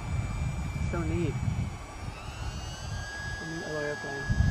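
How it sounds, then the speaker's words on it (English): An E-flite UMX Turbo Timber RC model airplane flies outdoors, its steady electric whine holding throughout at moderate distance, with brief voices over it. "A neat little airplane."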